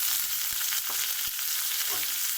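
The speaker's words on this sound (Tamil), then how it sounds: "இது நல்லா வதக்கி விடுறோம்" Steady, loud sizzling of onions sautéing in a pan, with occasional soft stirring scrapes and taps, no voices.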